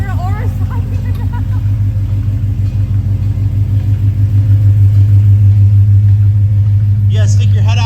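2018 Ford Mustang with its doors removed and fiberglass doors pending, a steady loud engine drone and road rumble from inside the cabin while driving, with brief speech-like bursts at the start and end.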